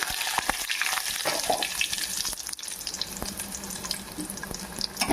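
Curry leaves dropped into hot oil with tempering seeds for a mushroom masala, giving a steady bright crackling sizzle with a few sharper pops, close and continuous, no voices.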